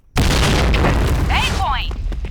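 A grenade blast in a Counter-Strike style shooter, on the Sandstorm map: a sudden loud boom that rolls on as sustained rumbling, with game voice chatter and radio-like calls over it.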